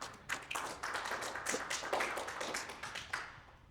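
Audience clapping fills a conference hall as a presenter walks up to speak, a dense, steady patter of many hands held at moderate level, sustained throughout before thinning out at the end.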